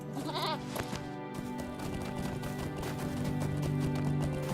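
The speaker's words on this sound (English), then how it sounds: "Okay, I can really quick hop back on my goat." A goat mount in Lord of the Rings Online gives a few nasal bleats over a steady clip-clop of hooves, clear and close in the game audio.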